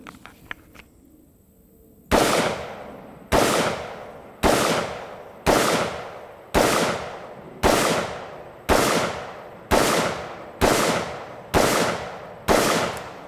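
A Spikes Tactical rifle build on its first range trip fires about ten loud, close shots at a steady, evenly spaced pace. Each crack has a sharp attack and a short ringing decay, after a brief quiet stretch at the start.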